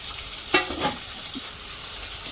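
Potatoes with chillies and curry leaves fry in a pan, a soft steady sizzle broken by a sharp clatter of stirring and a couple of quieter scrapes.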